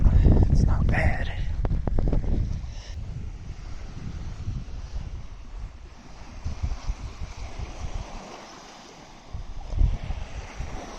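Waves washing onto the Lake Superior shoreline on a chilly evening, a broad steady rush with gusts of wind buffeting the microphone, a few louder swells near the start and end.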